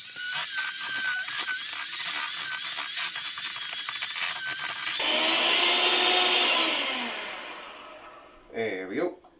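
An electric beater whirs steadily while breaking up clumped brown sugar for gingerbread cookie dough, a continuous motor hum with rattling texture that rises then trails off, with a voice talking over it.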